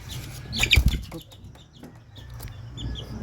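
Straight Sweater Kelso gamefowl chicks in a backyard, a short burst of clucking and peeping up close with a brief flurry of movement, then softer scattered chirps.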